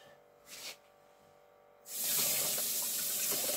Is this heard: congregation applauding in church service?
no